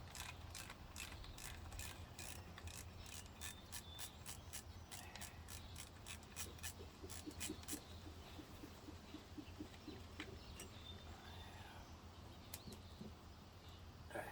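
A ratchet wrench clicks in a rapid, even series while loosening a nut on a 1962 Mercury 6hp outboard motor, close and quiet over a steady background hum, then falls silent.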